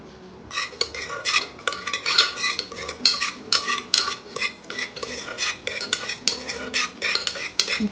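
Cumin fries in ghee while a spoon stirs and scrapes briskly against the pan in a quick, repeated rhythm, close and fairly quiet, with only a faint sizzle beneath.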